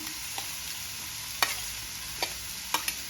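Chopped cabbage stir-fried in a pan for paneer fried rice, a soft continuous sizzle broken by a few sharp spatula clicks against the pan, close but fairly quiet, with no voices.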